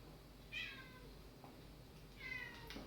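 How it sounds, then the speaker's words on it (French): A cat shut outside meows twice, each cry short and fairly clear, roughly two seconds apart and heard from a little distance over a quiet indoor background. "Je crois qu'il y a le chat de Monsieur M qui n'est pas content ce matin parce qu'il est enfermé dehors"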